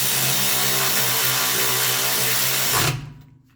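A power tool tightens bolts on the brake parts of a 1985 Mercedes 300SD, giving one loud, close, continuous whirring burst for about three seconds that then cuts off abruptly.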